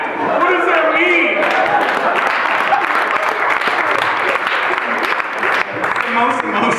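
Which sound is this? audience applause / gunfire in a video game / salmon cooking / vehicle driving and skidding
audience applause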